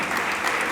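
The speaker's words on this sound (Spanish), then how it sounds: "Dele palmas" Church congregation clapping together, a steady dense wash of applause filling the room without pause, moderately loud throughout.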